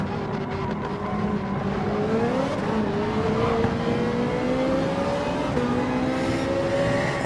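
A race car engine in Gran Turismo 7 being pushed hard during a race, a loud continuous high-revving whine whose pitch climbs steadily, with no talking over it.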